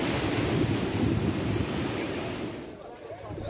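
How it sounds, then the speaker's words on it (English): Floodwater pouring from a canal that has burst its banks south of Umlazi near Durban, a loud continuous rushing roar mixed with wind buffeting, easing slightly toward the end. "The canal has broken its banks south of Umlazi."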